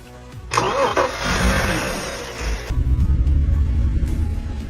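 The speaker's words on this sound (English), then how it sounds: "Now that the spark plugs have been cleaned up again, let's crank it one more time." A flood-damaged BMW X5 SUV engine cranks with a whirring starter, then catches and settles into a loud, rough idle close by, running steadily through the end with no voices.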